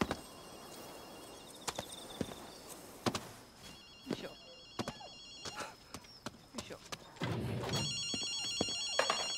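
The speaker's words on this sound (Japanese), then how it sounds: "電話の音が聞こえないか" A telephone rings in the video game Ghostwire: Tokyo, faint and intermittent, with a few sharp clicks and taps around it and a louder, steadier ring toward the end.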